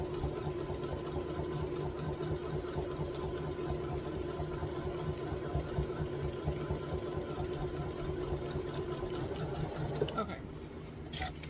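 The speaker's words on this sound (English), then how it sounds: "I don't want to sew too fast." A sewing machine stitches a quilt block at a steady, moderate pace, its continuous mechanical hum running loud and close for about ten seconds before stopping abruptly.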